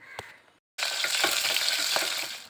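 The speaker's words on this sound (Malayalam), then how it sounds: "വെളിച്ചെണ്ണ ഒഴിച്ച് കൊടുത്ത് ചൂടാകുമ്പോൾ നമുക്ക് ഉള്ളി ഇട്ട് കൊടുക്കാം." Onions drop into hot coconut oil in a cooker, and a loud, dense sizzle bursts in suddenly after a brief tap and a moment of silence. The frying then continues steadily up close.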